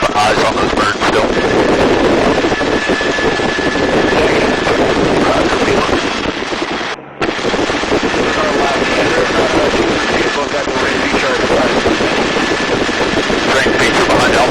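Loud, steady broadband roar of a gunship helicopter in flight, its rotor and engine noise filling the cabin continuously apart from a brief dropout midway, with faint radio chatter buried underneath.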